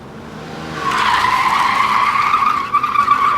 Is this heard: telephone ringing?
no